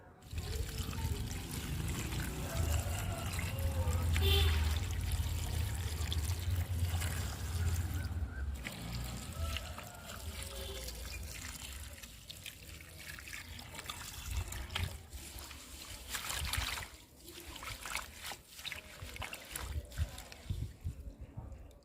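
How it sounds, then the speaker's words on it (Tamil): Water poured over fresh neem leaves to wash them at home, a steady splashing trickle that runs for most of the clip, loudest early and thinning toward the end, with no talk over it. "இப்போ இத தண்ணி ஊத்தி நம்ம நல்லா கழுவிக்கலாம்."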